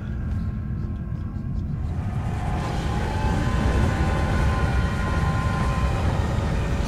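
Train passing in the video game Alice: Madness Returns, a steady low rumbling roar that swells after the first couple of seconds and rolls on continuously, with faint tonal hum above it.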